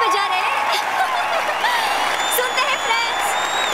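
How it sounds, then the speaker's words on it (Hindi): A crowd claps and cheers in a lively, continuous wash of applause, with voices and chatter mixed in throughout. "अरे तालियां क्यों नहीं बजा रहे?"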